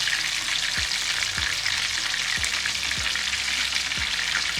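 Mac and cheese bites frying in hot oil, a steady loud sizzle and bubbling throughout, with regular low thumps roughly every half second to second.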